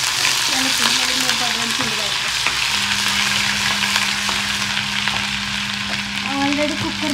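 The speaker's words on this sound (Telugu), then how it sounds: "అది కొంచెం వేగాక అందులో అల్లం వెల్లుల్లి పేస్ట్ ఒక వేసేసుకోండి." Ginger garlic paste fries with mustard seeds in a hot pan, a steady loud sizzle with scraping stirs, while a constant low hum runs underneath through the second half.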